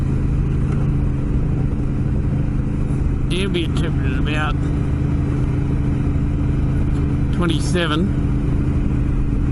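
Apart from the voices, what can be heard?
vehicle engine running while driving in the desert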